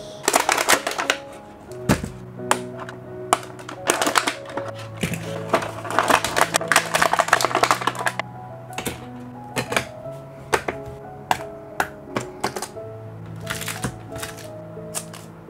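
A Bakugan Geogan Rising card pack being torn open and its cards handled, with dense crinkling foil, rustling and sharp tapping clicks, loudest in the middle and thinning to scattered handling taps toward the end; no talking.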